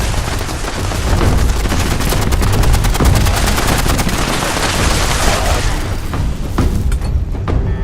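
Dense, loud automatic gunfire from a fusion-cell energy weapon in the video game Fallout 76, rattling nonstop for several seconds amid chaotic battle noise before easing off near the end.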